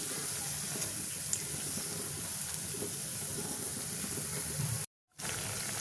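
Bora fritters deep-fry in hot oil in a kadai, giving a steady close sizzle and crackle that runs unbroken except for one brief dropout near the end.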